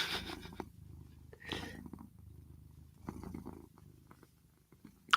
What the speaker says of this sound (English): I love using the term motorboating about Luna's purring